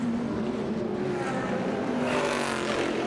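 Race cars in the 2014 Pirelli World Challenge at the St. Petersburg street circuit roar down the straightaway at the start, a dense, continuous engine drone that swells slightly toward the end, with no talk.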